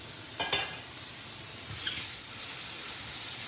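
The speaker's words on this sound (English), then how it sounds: "Give these a nice stir so they can get that coating." Mushrooms sizzle steadily in a hot pan as they are stirred, a constant soft frying hiss with a couple of brief scraping stir strokes near the start and no talking.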